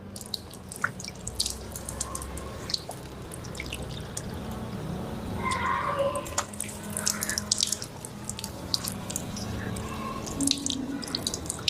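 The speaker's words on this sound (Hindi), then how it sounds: "ऐसे चुल्लू में पानी लेंगे दोनों हाथों से और आहिस्ता से ये हाथ पूरे चेहरे पर फेरेंगे" Water running and dripping as hands scoop and splash it over the face during ablution washing, with steady tap flow and scattered drips throughout, fairly close and no talking.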